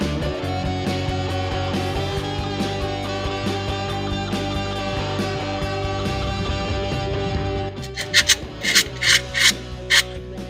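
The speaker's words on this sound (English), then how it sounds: "What I'm going to do first is scrape all the junk off here" Harsh rhythmic scraping as grime is cleaned off a Squarebody K5 Blazer steering shaft, a continuous close rasp that turns into several separate, sharp strokes near the end.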